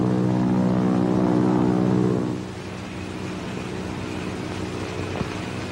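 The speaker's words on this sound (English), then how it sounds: "Do you hear a plane?" A propeller airplane drones overhead in a 1940s film scene, a loud steady roar for about two seconds that then eases to a quieter continuous hum.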